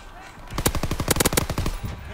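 Rapid automatic gunfire from a Call of Duty match, loud bursts of closely spaced shots cracking in quick rhythm across the whole moment, with a voice briefly talking under the shooting.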